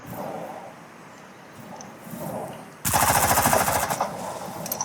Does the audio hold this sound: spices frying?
no